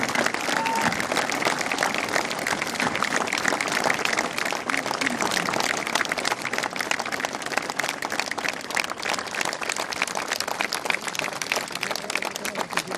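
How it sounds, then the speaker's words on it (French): Steady crowd applause at an outdoor street inauguration in Béziers, honoring family members present, dense sustained clapping of many hands continuing for the whole stretch with a faint murmur beneath. "je voudrais qu'on les applaudisse"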